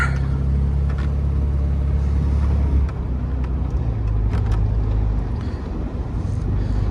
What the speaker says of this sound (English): hopefully you can hear that beautiful Alfa Romeo exhaust a little bit better